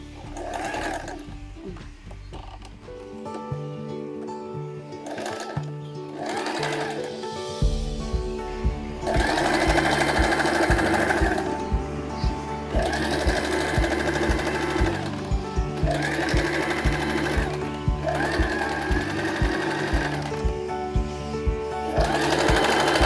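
A sewing machine runs straight stitches with a half-inch seam allowance, starting and stopping in several bursts of steady rapid needle chatter, loud and close, with a brief backstitch at the start.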